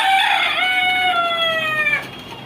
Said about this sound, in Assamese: এইটো হ'ল সোণালী মুৰ্গীৰ ফাৰ্ম